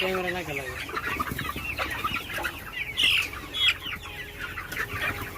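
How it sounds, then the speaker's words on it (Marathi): Village hens on a small free-range poultry farm cluck repeatedly at close range while drinking water, with scattered short calls and a brief flutter of wings. "हे पाका कसा पक पक पक करीत पा कोंबड्या पाणी प्यायचं"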